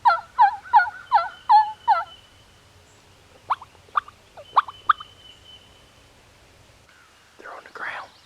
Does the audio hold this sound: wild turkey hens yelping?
yes